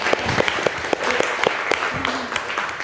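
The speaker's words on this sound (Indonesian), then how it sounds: "Boleh dong kasih tepuk tangan buat tim BD dong" Audience clapping for a business development team at a communication talk, a brief burst of scattered claps close by that fills the room evenly for about three seconds.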